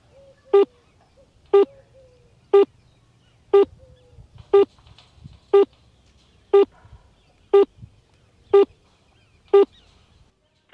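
Network tones on a mobile phone call that fails to connect: a single short beep repeats at a steady one-second interval, about a dozen times, clear and close, with faint background noise between the beeps.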